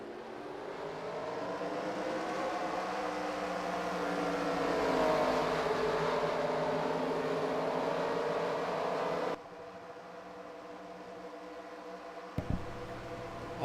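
Race car engines in a stock car racing video game, forty cars at Atlanta for the Bass Pro Shops 500, a steady droning hum that drops to a quieter level partway, with a brief click near the end.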